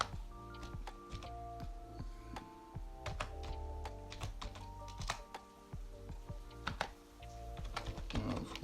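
HTML code being typed on a computer keyboard: rapid, irregular key clicks at close range, with a few brief pauses between bursts and no talking.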